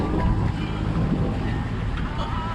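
A sailboat motor sailing off the northwest coast of Cuba. A steady low engine drone blends with wind buffeting the microphone and rushing water, continuous and fairly loud throughout.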